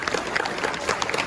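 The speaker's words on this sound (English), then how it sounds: "again, a round of applause." An audience at a State of the City address gives city staff a short burst of applause, a brief patter of claps in a hall.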